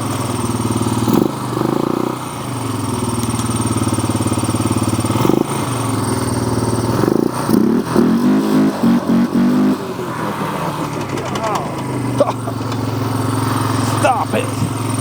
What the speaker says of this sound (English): The RPM is too high and it's pretty hard to change the gear.